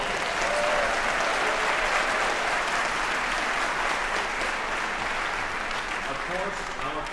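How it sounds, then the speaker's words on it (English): An audience at a Traverse Symphony Orchestra Beethoven concert gives sustained applause to the stage crew, a thick, uniform roar of clapping that holds steady throughout. "some nice applause for our stage crew"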